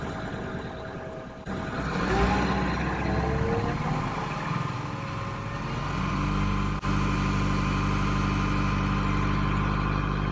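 An Isuzu NPS300 truck engine cranks briefly, catches and then idles with a steady, low, continuous rumble close by.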